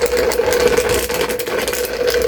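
A small broken electric fan motor whirs and rattles steadily up close, spinning without moving air, with a constant mechanical hum and uneven buzzing.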